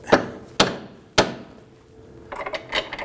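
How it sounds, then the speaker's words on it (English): A mallet strikes the lower control arm of a 2008-2011 Ford Focus during front suspension work: three sharp, ringing metallic blows about half a second apart, then a few lighter clanks and rattles, close and with no voices. "let's go ahead and move to the back portion here. And use our mallet"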